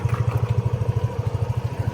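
A motorcycle engine idles close by at a motorcycle repair shop, a steady, even chugging pulse of low thumps that continues unchanged throughout, with no one talking.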